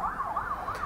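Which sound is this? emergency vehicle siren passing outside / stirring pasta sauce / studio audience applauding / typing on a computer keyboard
emergency vehicle siren passing outside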